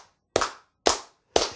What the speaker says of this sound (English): And then we will clap four times.